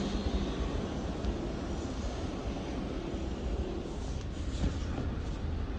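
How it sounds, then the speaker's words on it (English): A London Overground Class 710 electric train pulls into a platform at Primrose Hill, its steady low rumble and rail noise continuous and fairly close throughout, with no voices. "710-262 has arrived and will later be forming the 1515 to Watford Junction."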